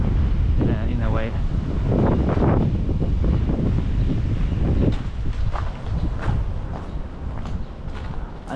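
Wind blows outdoors on a street in Boston's South End, buffeting the microphone with a loud, continuous rumbling roar, while a voice speaks faintly underneath early on.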